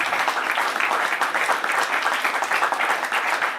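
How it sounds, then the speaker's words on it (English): Audience at a conference panel event applauding the panelists and organizers, a sustained, fairly loud patter of many hands clapping evenly throughout with no speech. "let me just ask you for a big round of applause for our panelists and for the organization."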